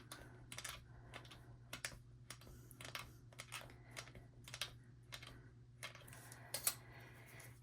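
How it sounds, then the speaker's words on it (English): A stiff blade chops through blended polymer clay on a work surface in a quick series of sharp, distinct taps and clicks, close up and fairly quiet, with no talking. "I'm going to take my stiffer blade here, and I'm going to cut these all up."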